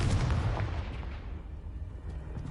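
A booming blast from the Confringo spell in Hogwarts Legacy, a loud explosive burst at the start that rumbles and fades into a lingering tail.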